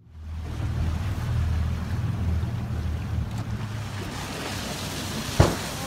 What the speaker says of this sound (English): breaching, when a whale jumps up out of the water and then flops back down